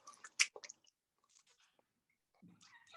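Open-mouthed chewing, wet smacking and squishing bites heard close but faint, a cluster of noisy mouth sounds followed by a pause and a few more squelches.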